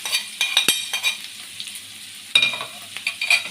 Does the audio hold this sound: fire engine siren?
no